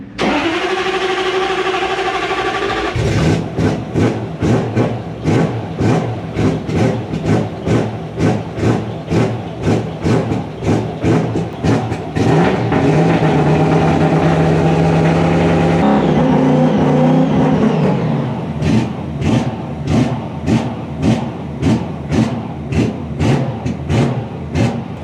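Drift car engine cranking and catching, then revved repeatedly in a steady pulsing rhythm to build oil pressure, loud and close with rough idle between the blips and no talk.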